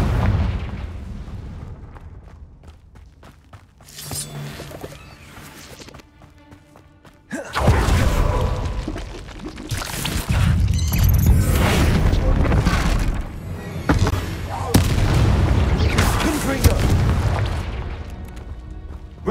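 Confringo fire-blast spells burst in the Hogwarts Legacy game: a quieter stretch of low rumbles and thuds gives way to a long run of loud, booming explosions with crackling, shattering debris and heavy low-end roar.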